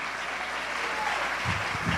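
Clapping from a church congregation fills the space as a steady, moderately loud patter, with a voice briefly breaking through near the end.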